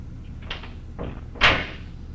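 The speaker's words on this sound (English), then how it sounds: "Risho, open the door, please" A door opens with a short rattling scrape, a second softer shuffle, then a louder clunk as it swings, all close by over steady background hiss.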